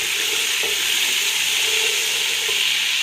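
Ginger sizzles steadily in hot oil in a pan while being stirred, an early step in cooking mutton dum ka gosht; a close, continuous frying hiss with a few faint utensil scrapes.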